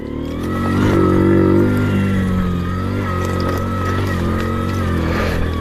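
Supermoto motorcycle engine droning steadily while riding off road, a loud continuous close-up motor note that swells briefly early on and then holds even throughout.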